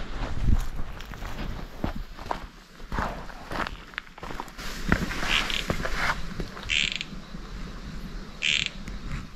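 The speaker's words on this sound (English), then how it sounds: "That croaking is the sound of a red-legged frog" Low, rough croaking pulses of a red-legged frog repeat irregularly amid rustling and footstep-like crunches outdoors in the mountains, with a couple of brief higher chirps.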